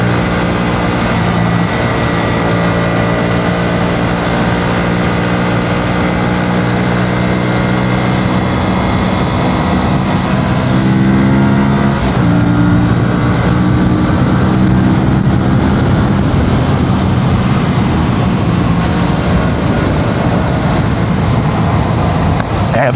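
An Aprilia Tuono 457 motorcycle, 2026 model, rides along with a steady, loud engine drone and harmonic tones that shift in pitch partway through as the rider changes speed, continuous throughout.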